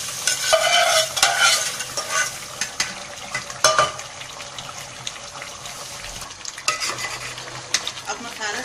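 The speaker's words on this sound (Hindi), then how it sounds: "अब इसको हम अपने पाया वाले बर्तन पर डालेंगे" Fried masala scraped into a pot of paya and stirred, bringing busy close sizzling and repeated spoon scrapes against the metal, loudest at first and settling into steady frying.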